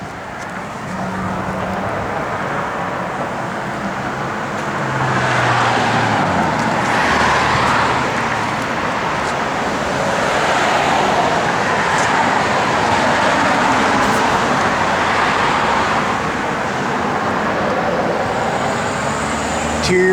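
A 1966 Chevrolet Nova SS drives on the road with a steady broadband rumble of engine and tyre noise that swells slightly after the first few seconds and holds for about twenty seconds, with no talking.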